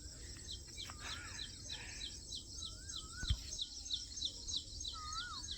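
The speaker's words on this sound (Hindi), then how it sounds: "इस बाग में बोल रही है कोयल" Asian koel calling in an orchard, its rising whistled notes repeating a few times at moderate distance over a steady chorus of insects and other small birds.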